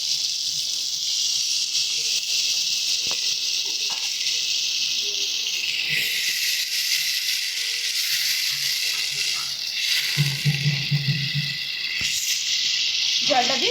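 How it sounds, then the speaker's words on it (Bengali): Water poured into egg curry masala sizzling in a pan, a steady hiss and fry with a brief louder burst of sizzle and bubbling near the end. "এবারে আমরা পরিমাণ মতন জলটা দিয়ে দিচ্ছি।"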